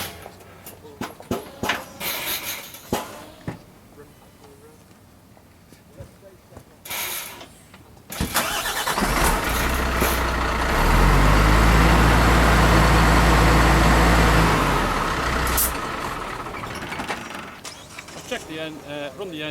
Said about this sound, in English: I'm going to run the engine.